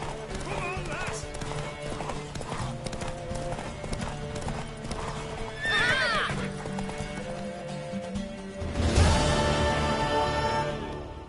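Horse hooves clip-clop at a gallop during a race in the game Witcher 3, with a whinny and game music and voices layered over the steady hoofbeats.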